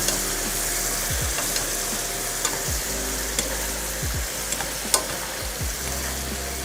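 Mushrooms stir-fry in soy sauce in a pan for a Korean vegan tteokbokki, a steady close sizzle broken by occasional scrapes and clacks of a utensil, with no talking.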